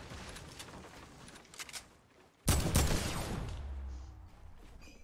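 In a video game, a single loud shotgun blast erupts after quieter background action, followed by a booming, rumbling tail that slowly fades over the next couple of seconds.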